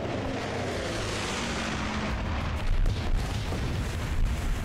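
Bombing-run explosions striking barrels in the video game Guns Up, a dense continuous roar of booming blasts and rumble that swells slightly partway through, with no talk.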